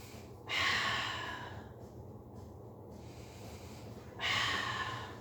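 Slow, deliberate breaths during a guided breathing exercise: two long, airy exhalations close to the mic, about four seconds apart, with a quiet pause between and no talking.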